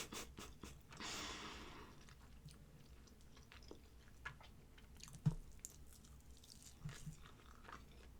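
Faint, close chewing of Ethiopian food with lentils and greenish flecks of spice: soft wet mastication and squishy bites, with one sharper crunch midway, in a quiet room.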